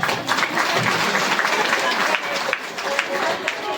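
An audience at a Shrimad Bhagavat katha religious discourse claps together in a dense, loud burst of applause that lasts throughout, with voices mixed in.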